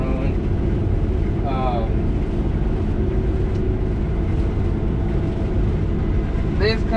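A Case IH 7120 combine harvester runs with a constant, loud low rumble heard from inside the machine, steady throughout with little change in pitch, with faint voice-like tones briefly over it.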